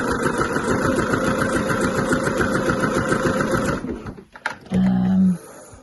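A sewing machine runs a zigzag stitch, length 2 and width 3, along the hem of a stretch-fabric Breton stripe tee: a steady, rapid mechanical chatter for about four seconds, then it stops, followed by a few handling knocks and a short hum.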